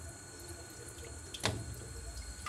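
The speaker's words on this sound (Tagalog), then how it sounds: "Tapon lang ng tapon talaga yung tubig pag ganyan." Water spills out of a leaking Samsung washing machine that cannot wash because the refill water keeps draining away. It is a faint, steady trickle with one brief louder splash midway.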